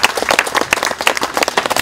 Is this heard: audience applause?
yes